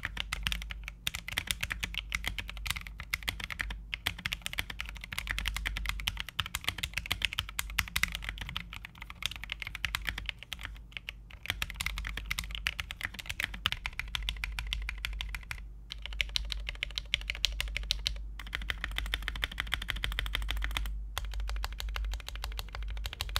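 Steady, fast typing on a mechanical keyboard with high-profile SA keycaps and lubed Cream switches, close and continuous for over twenty seconds, with dense clacks and brief pauses between bursts.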